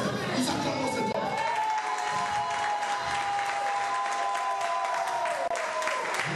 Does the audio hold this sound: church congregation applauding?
yes